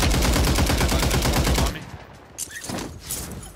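Rapid automatic gunfire in the video game Warzone 3, a loud, tightly spaced burst of shots lasting under two seconds before cutting to quieter game ambience with a few faint thuds.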